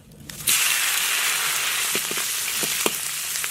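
Green onion, ginger, garlic, dried chili and Sichuan pepper hit hot oil with a sudden loud sizzle that settles into steady frying hiss, with a few soft clinks of stirring.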